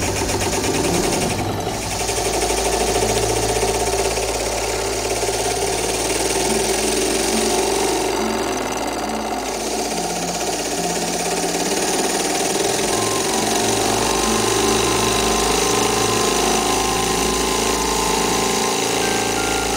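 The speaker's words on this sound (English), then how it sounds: "What a nice engine." A Bing Weeden toy steam engine runs steadily with a fast, even mechanical clatter and buzz that continues unbroken throughout.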